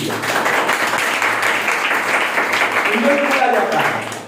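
Students clapping together in a classroom during a lesson, a dense burst of applause with voices mixed in underneath, fairly loud and close throughout.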